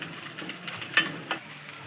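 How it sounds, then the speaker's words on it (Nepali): Garlic and chili frying together in a pan, with a soft steady sizzle under a few brief scraping stirs, heard close and fairly quiet with no talk. "लसुनलाई पनि यसैमा मिक्स गर्ने र यसलाई पनि रातो हुँदैसम्म भुट्ने"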